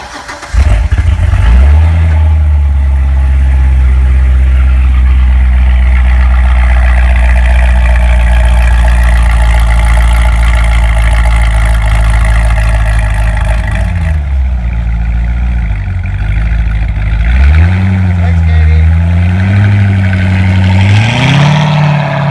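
A Chevrolet Corvette C6 Z06 V8 cranks and catches with a loud bark, then settles into a deep, steady idle, close up, with a couple of brief blips partway through and no talking.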